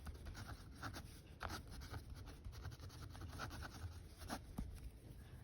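Pen or marker scratching out a chemical formula on a board or page, a steady run of short strokes with brief louder taps, close and moderately quiet, no talking.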